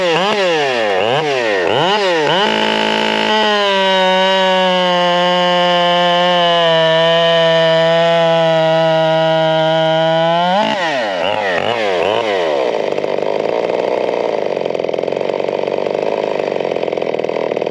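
A Husqvarna 572 big bore chainsaw engine runs loud and close, revving and dropping in sweeps, holding a steady high pitch for several seconds, then falling back to a rough high idle.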